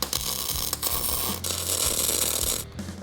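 Welding brackets in place to hold a fuel tank on a Ford truck, a constant crackling, buzzing arc hiss with short pulses and pauses, close and steady, no speech.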